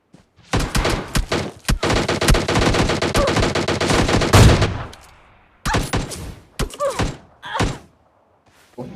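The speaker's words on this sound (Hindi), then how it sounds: "अब देखना कुछ गन शॉट चलेंगे यहाँ पे।" Rapid gunfire in the PUBG Mobile Lite mobile game, a dense automatic burst for several seconds followed by scattered single shots and thuds, loud and close with no talk.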